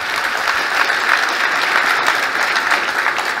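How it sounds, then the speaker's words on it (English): A conference audience breaks into steady, even applause, a dense wash of many hands clapping at once that holds at full strength throughout. "yeah, you can clap, yes."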